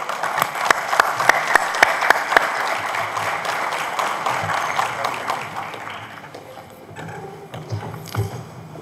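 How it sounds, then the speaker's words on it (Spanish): Applause from an audience at a law lecture welcoming a speaker, sharp individual claps standing out over dense clapping that slowly thins and fades, with faint voices emerging near the end. "brindémosle un fuerte aplauso"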